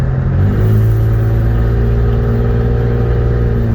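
A modified Toyota Camry with a 3-liter inline-six idles and revs steadily nearby, its deep, even drone rising slightly in pitch near the start and then holding a loud, constant rumble with no talking.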